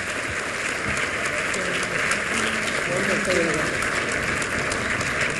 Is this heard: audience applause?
yes